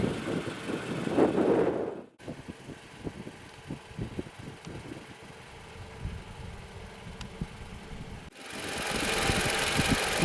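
A 2017 Toyota Camry LE's 2.5 liter inline four-cylinder runs with a low, steady idle rumble and faint rhythmic pulsing, set between louder, broader stretches of engine and road noise.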